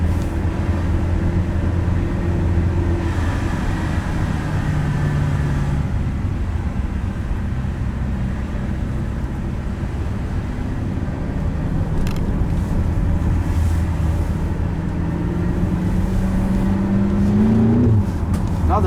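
Steady engine drone of a 575 hp F85 BMW X5M with automatic gearbox driving through Stockholm city streets, rpm shifting with small downshifts and a brief rise near the end, loud and continuous from inside the car.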